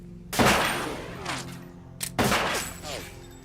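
Gunfire in Metal Gear Solid 2 arrives as two loud, close bursts of shots a couple of seconds apart, with a voice talking over the game sound.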